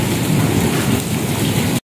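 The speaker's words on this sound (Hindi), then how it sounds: "बारिश बहुत तेज़ और साथ में जो है ना ओले भी गिर रहे हैं।" Heavy rain with hail pours down during a violent storm, a dense, steady roar of drops and pellets hitting surfaces up close, unbroken for about two seconds with no voices.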